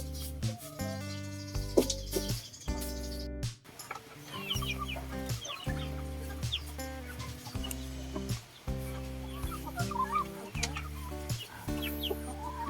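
Free-range chickens in their coop cluck steadily and overlap one another, with repeated nearby calls and a busy farmyard murmur, with no voices over them.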